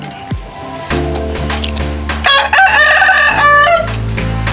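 A rooster crows loudly and close by, with chickens clucking around it and no talking; the birds are being treated for a snoring respiratory illness and kept in a box cage.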